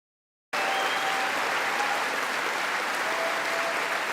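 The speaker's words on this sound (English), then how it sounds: "being met with the same applause." Applause in the US Congress for Benjamin Netanyahu's address, a dense, steady roar of many hands clapping that starts abruptly after a brief silence and holds evenly throughout, with no voices rising above it.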